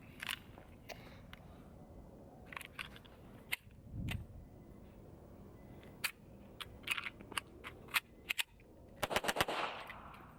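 A Hi-Point JCP .40 pistol fires rounds in sharp, scattered cracks, a few isolated shots followed by a quicker cluster near the end, over a low background hum.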